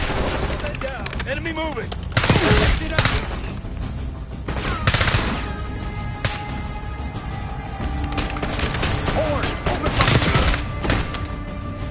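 Gunfire in the video game Call of Duty Black Ops 6, with repeated bursts and single loud shots cracking over a busy battlefield while a voice calls out between the volleys.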